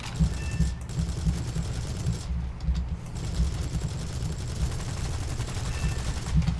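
Rapid, sustained aircraft cannon fire in War Thunder, a steady rattling burst that runs nearly unbroken, with a brief gap partway through, sounding close and mechanical.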